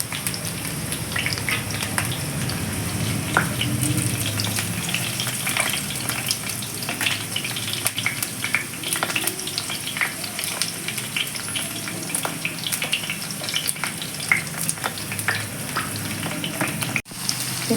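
Bitter gourd pieces frying in oil, a steady close crackling sizzle with dense little pops like rain on a surface, continuous for many seconds with a brief sharp knock near the end; no talking.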